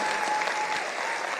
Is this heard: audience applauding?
yes